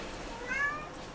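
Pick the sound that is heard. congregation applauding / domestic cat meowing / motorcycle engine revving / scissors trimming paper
domestic cat meowing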